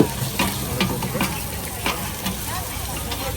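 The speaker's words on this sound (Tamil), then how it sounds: "கீரை போட்டுறாங்க, முட்டையை உடச்சி ஊற்றிட்டாங்க" Egg and leafy greens fry on a hot griddle at a Taiwan night market stall, a steady close sizzle with repeated scraping and stirring strikes over busy ambient noise.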